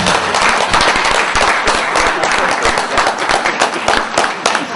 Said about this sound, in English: So after this clapping, new chairperson, I think you are really obliged to say yes.